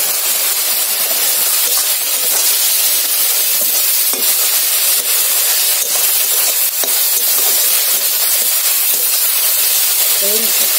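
Leafy greens with salt and turmeric fry in a pan, a loud, continuous bright sizzle and hiss with faint crackles throughout and a voice in the background.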